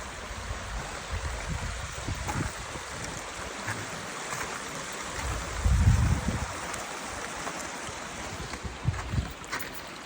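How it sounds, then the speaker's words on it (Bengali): Fast-flowing stream water runs under a bridge as a steady low rushing roar, buffeted by wind noise with a louder gust swell midway and no talking. "পানিটা খুবই জোরে সরে যাইতেছে।"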